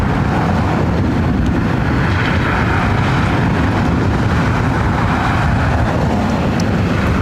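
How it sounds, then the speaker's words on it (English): An Austrian Airlines Boeing 777-200ER taking off from LAX bound for Vienna gives a continuous loud, low jet-engine roar, steady throughout with some wind buffeting on the microphone. "This is Austrian Airlines Flight 82 taking off to Vienna on a 777-200ER in the My Sound of Austria livery."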